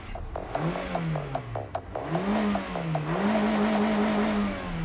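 Car engine restarting after repeated stalling, cranking briefly and then catching into a rising and falling idle hum that revs up and settles, heard up close and alone.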